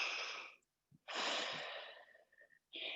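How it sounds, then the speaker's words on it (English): Deep breaths during a barre workout, a long loud inhale followed by a steady exhale, close to the microphone, with short breathy pauses between them. "Nice big inhale here."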